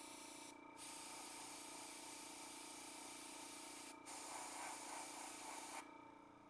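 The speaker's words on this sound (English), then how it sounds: "The airbrush is always best for these things." An airbrush sprays acrylic paint in a soft, steady hiss, broken by two brief pauses, close and quiet with no voices.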